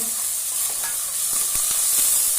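Field bean seeds being stirred and sautéed with onion in a pan, giving a steady loud sizzle with occasional soft scraping taps.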